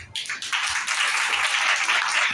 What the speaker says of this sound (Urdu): آئے زوردار تالیاں، زوردار تالیاں۔